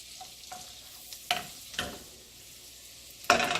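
Garlic frying in a hot pan over medium-high heat, a steady low sizzle broken by several sharp, bright bursts as it is stirred, the loudest near the end, with no talking.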